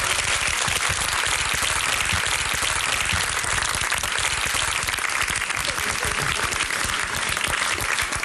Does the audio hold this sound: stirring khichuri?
no